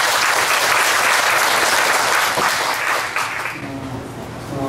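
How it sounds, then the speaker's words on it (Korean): Congregation in a church applauding together, a sustained dense wash of clapping that holds steady then thins slightly toward the end, with no talking over it. "박수로 한번 가보시죠."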